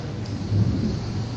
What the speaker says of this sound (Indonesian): Ini kan hujan.